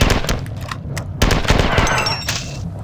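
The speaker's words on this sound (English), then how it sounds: "I'm going to waste my last missile because there's a bunch of spare ammo for it here" Rapid, loud weapon fire from the first-person shooter Marathon 2: Durandal, with a burst of sharp, closely spaced shots and a heavy blast partway through, up close with no talking.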